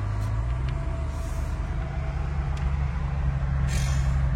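A Ram TRX pickup truck engine rumbles loudly and steadily nearby, deep and continuous, with a brief hiss of air near the end.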